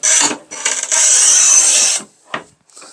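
A T-shaped manual tile cutter scores a tile with a scratchy rasping stroke lasting about a second, followed by short separate scraping and tapping sounds, close and loud.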